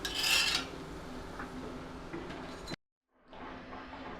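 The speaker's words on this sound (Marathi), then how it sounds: "हे थालीपीठ आपण आता काढून घेऊया" A spatula scrapes and lifts a cooked onion thalipeeth, a Maharashtrian bhajani flatbread, off the pan, with faint metallic scraping and clinks, a brief cut to silence, then quieter rubbing.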